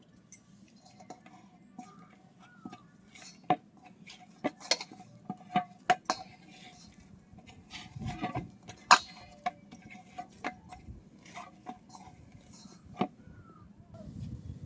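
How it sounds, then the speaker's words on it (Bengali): A knife cuts portions of dough on a kitchen surface, producing scattered soft taps and clinks at irregular intervals over a quiet background. "এবার আমি সব লেচিকেটা কেটে নেব।"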